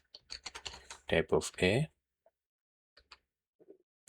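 Quick, close keystrokes clatter on a computer keyboard in a short burst, followed by a few sparse, softer taps. A voice may be mixed in with the opening keystrokes.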